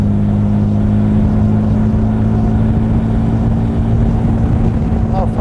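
A Jaguar SS 100 prewar open sports car with over 200 hp, its engine droning in a loud, steady, even hum while driving, with a constant rush of wind and road noise throughout.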